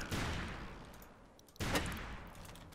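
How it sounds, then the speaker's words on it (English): Two loud, rumbling blasts from an airstrike in the blocky shooter game Ace of Spades, the second hitting about halfway through, each followed by a crackling, noisy tail. "It's an airstrike."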